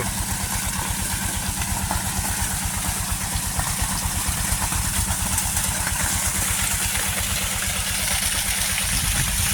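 A motor-driven irrigation water pump runs steadily in a low, rhythmic putter throughout, close by and fairly loud, with no talking.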